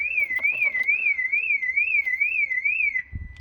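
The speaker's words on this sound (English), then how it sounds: "Oh, alarm, which is keen. And the alarm turning off." The alarm of a 1988 Lotus Excel wails with a steady rising and falling siren tone, then cuts off abruptly, followed by a low thump.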